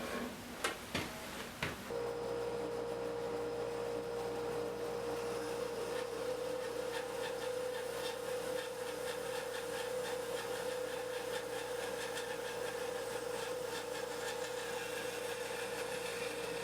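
A bandsaw fitted with a 4 TPI Olson blade cuts mulberry wood for a box, first a few sharp knocks and then a steady, loud whining drone of the blade running through the timber, with no talk.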